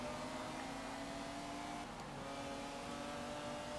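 Engine of a 1993 McLaren F1 in Forza Motorsport 7, a steady droning hum held at constant pitch, fairly quiet and alone throughout.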